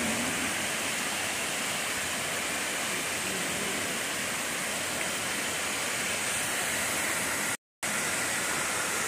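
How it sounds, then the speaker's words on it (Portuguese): Water pours down a waterfall in a broad, unbroken roar, loud and close, holding steady apart from one brief dropout near the end, with no voices heard. "Muito bonito esse local e esse som da água"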